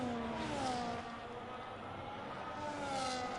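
Ferrari Formula 1 car engine in a racing video game at the Qatar circuit, a high whining rev that climbs and falls through gear changes, steady and moderately loud with no talking.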